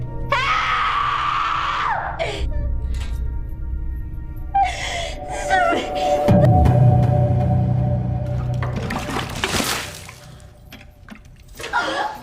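A woman in a film screams and gasps in distress while struggling, with strained cries and groans over a dense, loud background that shifts midway to a rushing, splashing texture.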